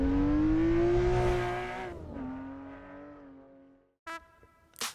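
A Lexus RC F V8 engine in a VR driving sim revs high, its pitch climbing and then falling as it slows, followed by two brief sharp bursts near the end, with no one talking.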